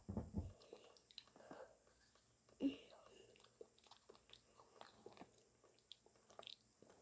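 Someone bites and crunches through a frozen Minion popsicle close to the mic, irregular quiet crisp crunches and chewing clicks with one louder bite, faint and intimate.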